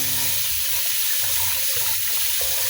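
Glutinous rice being washed in water for binignit, with steady running water and sloshing that continues throughout, close and fairly loud, with no talking.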